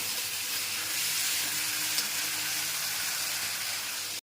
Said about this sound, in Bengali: আর এখানে বেগুনটা ভাজা হচ্ছে।